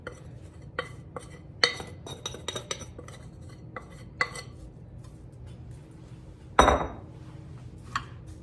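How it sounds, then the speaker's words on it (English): Soaked apple pieces dropped into a sprayed 8 by 8 baking pan, giving scattered light clinks and taps against the metal, mostly soft with one louder clattering knock near the end. "I'm going to put them into this sprayed 8 by 8 pan"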